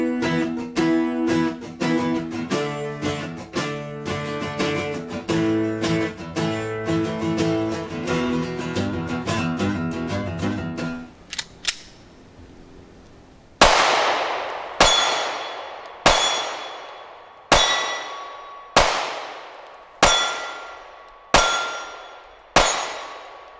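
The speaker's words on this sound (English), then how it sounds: "this is my first time shooting the M&P shield" A Smith & Wesson M&P Shield 9mm pistol fires roughly eight loud, evenly spaced shots, each with a ringing decay. Music plays for the first half before the shooting begins.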